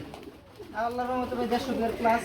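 Pigeons at a pigeon market coo in a low, rounded burble that swells partway through and repeats, close by, with some faint background murmur.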